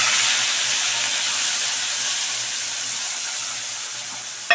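A ground spice mix tipped into a hot pan over a garlic, onion and green chilli paste, giving a loud, steady broadband hiss and sizzle that barely changes, ending with a brief knock at the close.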